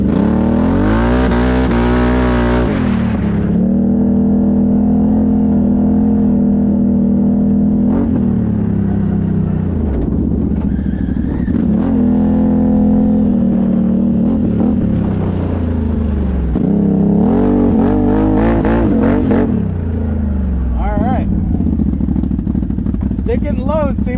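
A CFMOTO off-road vehicle's engine revs and accelerates hard through rising and falling pitches, loud and close, with a person talking over it throughout.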